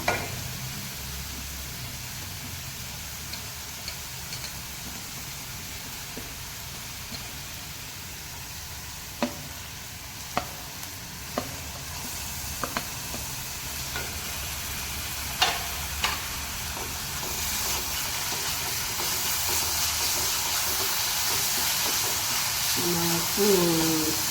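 Ginger and garlic fry in a pan for prawn gravy, a continuous soft sizzle with occasional sharp stirring clicks and scrapes that grow busier toward the end.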